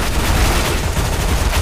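Gunfire in Counter-Strike: Global Offensive during an Arms Race match, a dense, loud burst of rapid shots with booming impacts running continuously across the moment, with no voices.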